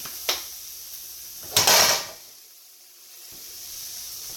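Chopped white onion hits a hot pan for stuffed zucchini boats. Two short bursts of sizzling hiss come with clatter, the second louder and longer, and then a quieter stretch of low pan noise follows.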